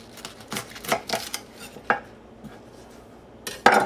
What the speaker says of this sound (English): cut up a little cabbage and some potatoes to go with it